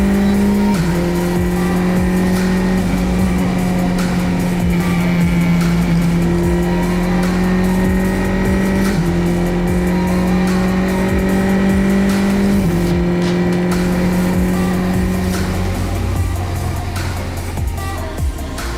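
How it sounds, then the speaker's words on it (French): Race cars at the GP Explorer event run hard around a circuit, a loud steady engine drone with gear-change pitch steps and occasional tire squeal, no talking over it. "Coco et Amixem, ça va faire la course là, c'est ça qu'on aime."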